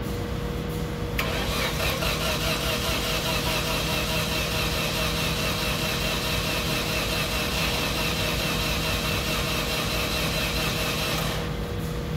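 A car engine cranks during a cranking test with a pressure transducer fitted in cylinder four but does not start. The starter whirs loudly and evenly for about ten seconds, then stops.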